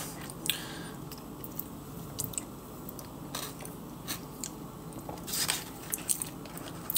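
Close, wet chewing and biting of marshmallows mixed with ice cream, with soft squishy mouth sounds and occasional crunchy bites over a steady low background hum; no talking.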